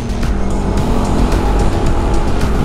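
A Honda ADV 150 scooter with a bored-up 62mm engine on its stock pipe rides through city streets, its engine drone steady and loud throughout with road noise and no talking.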